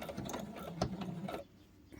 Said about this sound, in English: we just do that on the sewing machine, so that makes it super easy then